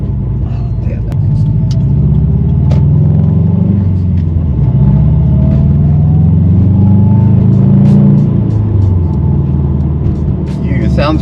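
A loud, deep Subaru WRX STI engine rumbles steadily from inside the car while driving in traffic, shifting in pitch as it changes speed, with a voice speaking over it.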